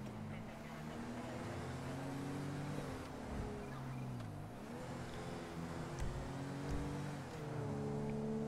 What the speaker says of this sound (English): And the engine sounds pretty tidy actually.